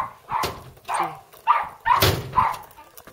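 A dog barks five times outdoors on a sunny snowy New Year's Day in Bulgaria, sharp close yaps spaced about half a second apart, with no talking over them.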